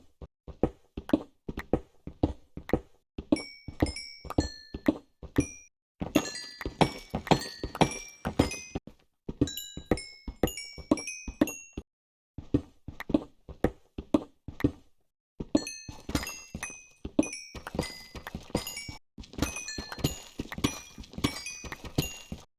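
Blocks are broken in the Minecraft video game: rapid, regular knocking hits in bursts, with pauses between and bright chime-like pickup tones scattered through the later stretches.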